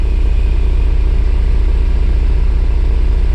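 A 1994 Mercedes SL600 idles roughly, running rich with its warning lights on. The engine makes a loud, close, low throbbing rumble with a steady pulsing beat and no talking over it.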